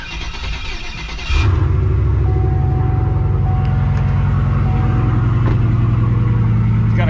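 A car with a cracked piston, running an overly aggressive tune, starts driving with a loud, steady close-up engine rumble and drone that holds constant after a sudden onset.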